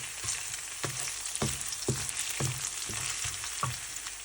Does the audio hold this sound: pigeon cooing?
no